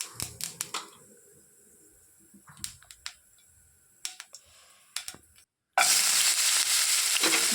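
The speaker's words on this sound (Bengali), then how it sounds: "একটু জিরে ফোড়ন দিলাম" Cumin seeds hit hot mustard oil in a wok and burst into a loud, steady sizzle after a few scattered clicks and taps of preparation.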